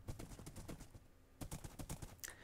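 Hooves of an undead horse clip-clop in Minecraft, a quick, steady run of faint hoof clicks with a short pause midway before the beat resumes.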